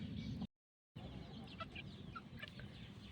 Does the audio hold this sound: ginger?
no